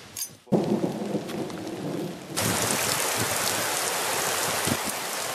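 Heavy rain pours steadily during a bushfire event, a dense, continuous hiss that starts after a brief low rumble and jumps to a louder, fuller downpour partway through, close by and without speech.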